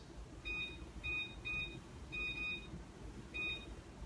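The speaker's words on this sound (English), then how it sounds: "we're going to set the timer for about 12 minutes" An oven timer on a kitchen range gives a series of short, high electronic beeps in irregular pairs and singles as it is set, clear against a quiet room.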